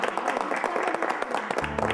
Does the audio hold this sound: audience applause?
yes